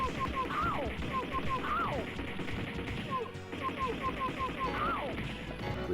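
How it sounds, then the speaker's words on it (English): In The Punisher arcade game, rapid gunfire cracks and smashing impacts pound continuously. They mix with bright chirping, sweeping electronic effects that repeat in short cycles over a busy, loud background. "Just pound away with the gun."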